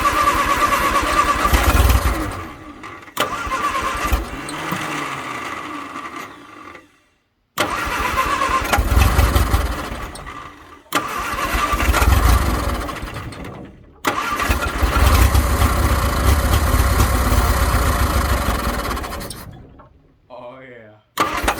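A 1962 Vauxhall Victor that has sat for 25 years cranks repeatedly in several long, loud bursts separated by short pauses, the starter churning with engine sputters as it tries to catch.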